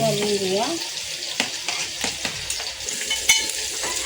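Garlic and asafoetida sizzle in hot oil as a spoon stirs them, with scraping strokes against the pan and a voice speaking briefly at the start.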